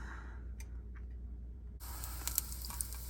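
Quiet room tone, then a sudden onset of faint, steady sizzling from onion in a hot crock pot, with small crackles and pops.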